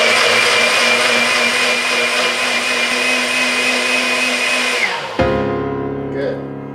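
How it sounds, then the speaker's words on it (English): A food processor whirs loudly and continuously as it blends salsa ingredients for Costa Rican gallo pinto. The motor hum runs for about five seconds, then cuts off abruptly and spins down with a faint rattle. "Once you have all of the ingredients in your food processor, just make sure it's on there properly"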